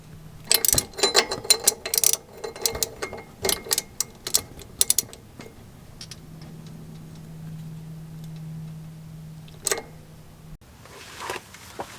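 A slotted oxygen-sensor socket tightens an O2 sensor on a car exhaust near a titanium aftermarket downpipe, giving close, brisk bursts of ratchet clicks and clinks in the first five seconds, then a low steady hum and another click.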